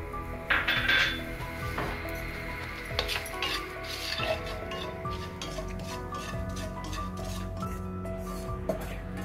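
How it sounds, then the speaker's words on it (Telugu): Semolina roasting in ghee in a pan while making beetroot laddu, with metal spoon scraping and clinking against the pan over a soft sizzle, close and fairly quiet. "అందులోనే మనము రవ్వ వేసి వేయించుకుందాం"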